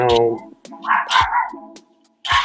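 A dog barks off to the side in a few quick bow-wow bursts as people talk casually over and around it, the barks sitting close to the voices in loudness.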